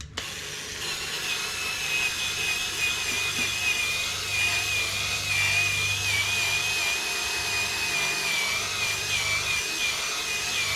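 A Dremel Versa power scrubber cleans a dingy gray hat, giving a steady whirring buzz with a high tonal whine that holds evenly throughout, close and fairly loud, with no talking.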